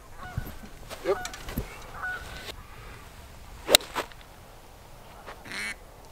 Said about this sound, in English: I just hit a duck.